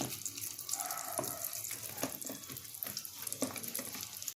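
Whole masala-coated pomfret fish set onto an oiled hot tawa, frying with a steady, close crackling sizzle and a few sharper pops throughout.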